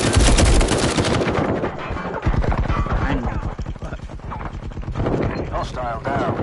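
Rapid gunfire from the Firewall Zero Hour tactical shooter video game, dense bursts of loud shots at close range throughout, with a voice talking over the action.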